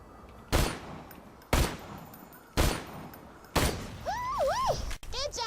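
Explosions and gunfire in the video game Borderlands 2: four loud, sharp blasts land about a second apart, each with a booming tail. Warbling electronic game tones rise over the final burst.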